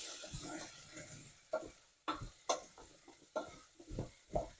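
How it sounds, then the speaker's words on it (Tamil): Fennel seeds sautéing in oil with potatoes in a pan, heard as faint sizzling broken by intermittent scraping stirs and sharp clicks of a utensil against the pan. "அரை டீஸ்பூன் பெருஞ்சீரகம் சேர்த்து வதக்கி கொள்ளுவோம்."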